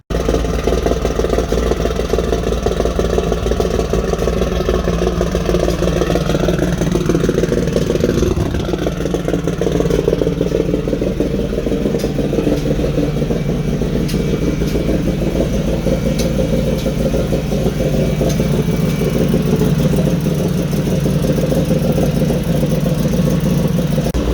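An Infiniti G35 with a built 1000 hp turbo engine, recently repaired for an exhaust leak, runs steadily at a close, loud idle with a low rumble and mechanical clatter throughout, with no talk over it.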